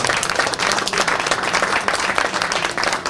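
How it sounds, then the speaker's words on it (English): A crowd at a GUKPT poker tournament applauds player Luke Tottenham, a loud, dense wash of many clapping hands held at a steady level throughout, with no voices above it. "Have a round of applause for Luke Tottenham."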